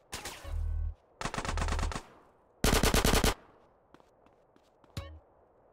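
Uzi submachine gun fire in Grand Theft Auto: San Andreas: three loud, close, rapid automatic bursts separated by short pauses, followed by a few scattered single shots.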